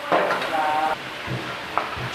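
Ginger garlic paste fries in a pan as a spoon stirs it, giving a brief close sizzle with a few scraping strokes and metallic clinks.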